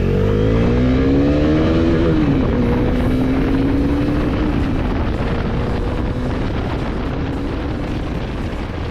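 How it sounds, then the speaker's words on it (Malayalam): A 2026 Bajaj Dominar 400 motorcycle with a 373cc single-cylinder engine accelerates on the road, its engine note rising through the gears under a steady roar of wind rush. "എന്നിരുന്നാലും നമുക്ക് ജസ്റ്റ് ബൈക്കിനൊന്ന് പുഷ് ചെയ്ത് നോക്കാം"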